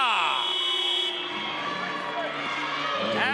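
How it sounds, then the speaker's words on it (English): A loud shot clock buzzer blares for about a second at a women's professional basketball game, the Sydney Flames against the Bendigo Spirit, sounding over crowd noise and courtside commentary that continue after it stops. "Is Werung at the buzzer"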